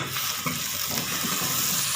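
Spiced bhindi masala, okra with kalonji and amchur powder, sizzling and frying in a pan while being stirred, a steady close hiss with soft scraping, no talk.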